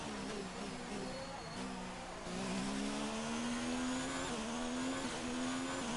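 A Ferrari Formula 1 car at the Spanish Grand Prix in F1 2019 screams at high revs, its engine pitch climbing through gear changes in a continuous loud whine.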